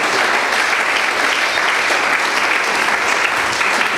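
A church congregation applauds the Lord, sustained loud clapping from a large crowd that keeps going unbroken and close.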